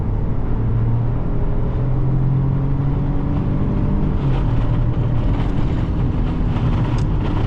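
A 2025 Ford Bronco Sport SUV with a 3-cylinder engine accelerates hard from inside the cabin, its steady engine drone rising in pitch under road and wind noise, loud and continuous with no talking.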